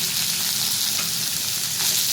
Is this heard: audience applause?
no